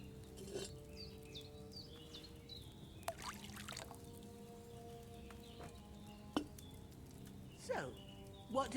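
Wine is poured into a cauldron in Kingdom Come: Deliverance 2, a soft liquid pour and trickle under quiet ambience, with a few faint clinks and chirps scattered through and no talk.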